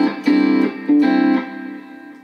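A guitar riff is plucked with thumb and fingers, two crisp chord hits that ring and fade, close and clear with no talking.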